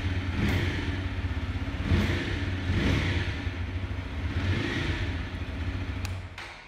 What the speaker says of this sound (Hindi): वैसे काफ़ी बेसिक एग्जॉस्ट नोट यहाँ पे 164V में आपको मिलने वाला है।